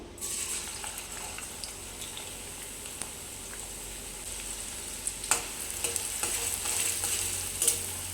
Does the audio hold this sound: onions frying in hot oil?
yes